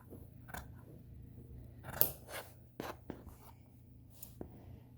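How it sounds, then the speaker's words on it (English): Scissors snipping at an angle across the seam-allowance corner of a fabric tote bag, a few separate crisp cuts with pauses between them, close and fairly quiet. "when you're trimming the corner, you're just trimming it at an angle"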